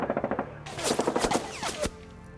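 Medium machine gun fire from a Konflikt '47 tabletop battle between Japan and the US, rendered as a rapid, loud burst of rhythmic shots lasting about two seconds and ending in a sharper final crack.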